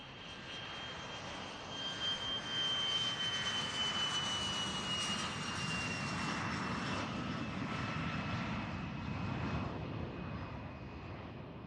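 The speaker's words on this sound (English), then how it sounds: "now we got an aircraft on takeoff roll here." An aircraft on its takeoff roll at Boeing Field gives a faint, distant, steady jet engine roar with a thin whine that builds slightly and holds throughout.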